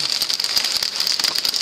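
A July hailstorm pelts a surface with a dense, steady hiss of countless small impacts, punctuated by louder individual hailstone hits, close and continuous.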